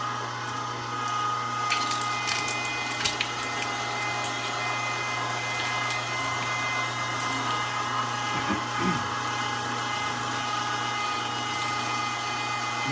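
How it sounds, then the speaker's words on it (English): A meat grinder runs steadily, grinding deer meat mixed with boneless pork chop and pork trimmings on a first pass, giving a continuous mechanical hum and whir with occasional brief rattles and clicks. "This is the first grind."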